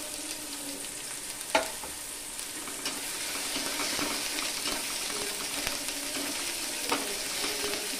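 Ground turmeric, cumin and salt sizzle in a hot pan over medium heat, a steady broadband frying hiss with occasional clinks and scrapes of stirring, close and fairly loud, with no talking.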